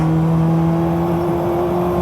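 Ford Sierra RS500 Cosworth BTCC race car on a circuit, its engine a steady loud drone under power with strong tonal hum, heard from close up with no voices.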